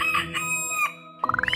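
A rooster crows in a long, loud, drawn-out call heard up close, followed by a quick run of rising clucking notes at the end.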